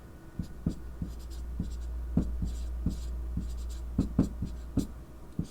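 Someone writes out a division problem by hand, a steady series of short tapping and scratching strokes with brief pauses, close and clear over a low background hum.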